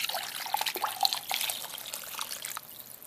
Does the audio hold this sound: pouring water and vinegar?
yes